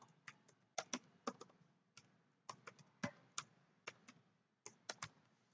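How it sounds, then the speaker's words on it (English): Typing on a computer keyboard while entering a blog address, with irregular bursts of close, crisp key clicks separated by short pauses, alone without speech. "just type in your"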